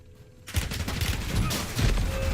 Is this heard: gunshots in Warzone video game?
yes